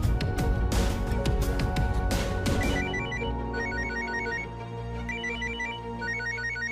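A telephone call to Raj rings through, with a busy burst of sound at first, then a repeating pattern of short, clear ringing tones at steady intervals, fairly loud and with no talking.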